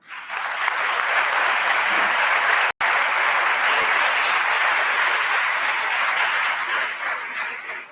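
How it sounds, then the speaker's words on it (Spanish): Audience applause for Anna at an inaugural lecture ceremony for the 2024-2025 academic year, a dense, steady wash of clapping from a large crowd lasting throughout, with one brief cut partway through before it resumes and tapers at the end. "Un aplaudiment per l'Anna."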